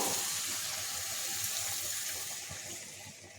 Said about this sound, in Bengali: এর সঙ্গে এবার আমি একটু জল দিয়ে দেবো একটু গরম জল দেবো